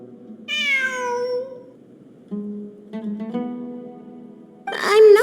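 A cat in the video game Genshin Impact meows clearly several times: a long drawn-out meow first, then a pair of shorter mews, and a sharp final cry, all heard alone over quiet background music.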